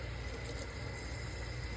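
Water runs in a steady, close rush to flush honing slurry off a Coticule whetstone during razor sharpening.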